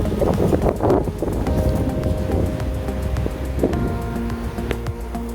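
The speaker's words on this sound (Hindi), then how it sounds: "ये हवा है और इतनी तेज़ हवा चल रही थी इसमें।" Strong wind gusts across a microphone beside a grapevine during a Pakistani heatwave, producing a continuous low rumbling buffet with occasional thumps and rustles.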